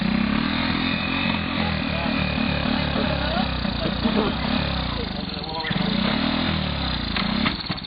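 A Honda Big Red three-wheeler ATV engine runs loud and close at a rough, uneven idle with blips of revving, while people talk over it throughout.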